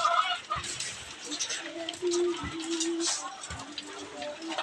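Chickens cluck in short bursts amid a busy outdoor background, with some faint rustling and occasional knocks.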